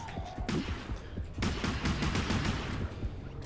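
Rapid bursts of machine gun fire in the underwater shooter game DEPTH rattle loudly in two dense volleys, with short gaps and echoing tails between them.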